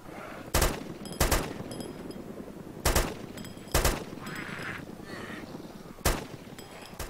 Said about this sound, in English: Is that the heli shooting?